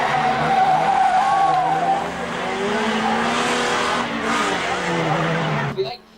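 Race car at Bovingdon Raceway skidding on the pits bend with squealing tyres and engine noise before hitting the Armco barrier, under continuous commentary.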